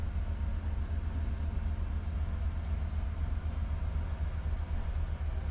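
Steady low rumble and rolling drone of a short-haul regional train running between Johanngeorgenstadt and Karlovy Vary, heard from inside the carriage, continuous with no talking.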